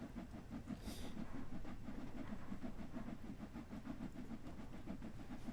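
Train accelerating at full power in Train Sim World 3 on the Peak Forest route, a steady rumbling engine with rhythmic clickety-clack wheel beats and a brief high squeal near the start, no talking.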